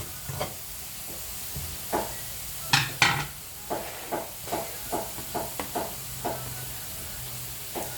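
Onions frying with spices in a pan, steady sizzling under repeated scraping stirs of a spoon, about a dozen evenly spaced strokes, close and fairly quiet, with no voices.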